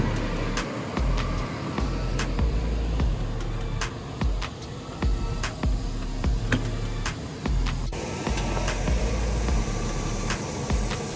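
An abandoned 1998 GMC 2500 pickup with a 350 V8 idles steadily nearby, a low, even rumble carrying a faint regular ticking throughout.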